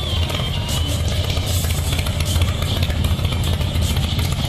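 A motorcycle engine runs on a mountain road at about 1730 metres altitude, a loud, close, rumbling drone with slight clatter that holds steady throughout.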